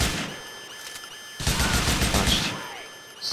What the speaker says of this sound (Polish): O, słyszę SMG